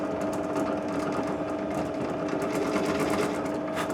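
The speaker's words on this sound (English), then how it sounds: "Get them drilled out." A drill bores 9mm holes in a Gretsch 6120-style guitar build, giving a steady close motor whine with a grinding edge that runs unbroken for the whole stretch.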